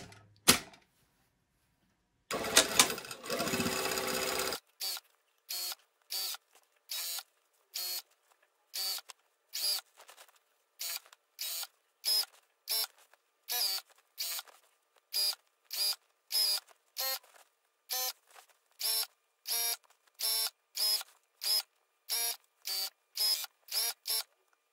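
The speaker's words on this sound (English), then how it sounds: "we're gonna sew all the way around." Sewing machine stitching a folded hem around a garment edge, in quick repeated bursts of rattling needle strokes separated by short pauses, close and clear with no talk.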